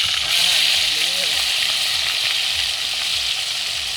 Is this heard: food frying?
yes